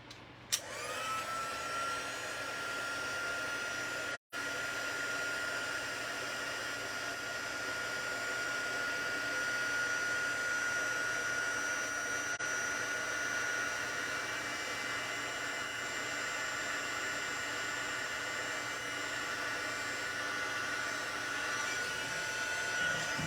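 A heat embossing tool blows hot air for card making, a steady close whirring hiss with a faint high whine that runs on without a break apart from one brief click near the start.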